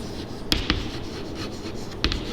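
Marker or chalk writing on a board during a maths lesson on determinants and adjoint matrices: a steady soft scratching hum with a few sharp taps and strokes near the start and end, close and fairly quiet, no talking.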